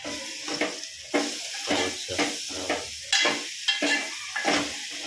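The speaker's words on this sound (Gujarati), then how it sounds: "હવે છાશ નાખશે અંદર એટલે મસ્ત રોટલો તૈયાર" Buttermilk with tomato poured over crumbled millet roti in a hot pan, giving repeated sharp sizzling bursts as the spoon stirs and scrapes, close and moderately loud, with no voices.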